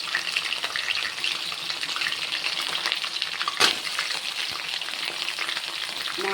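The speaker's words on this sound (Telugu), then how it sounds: "కాకరకాయ ఫ్రై చేస్తున్నాను" Bitter gourd fries in a pan with a steady, dense sizzle throughout, close and fairly loud, broken by one brief sharp clink partway.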